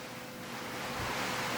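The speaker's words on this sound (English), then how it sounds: "It is fucking pouring rain still." Steady, dense roar of heavy rain pouring down outside, a broad hiss that swells slightly louder toward the end with no voices.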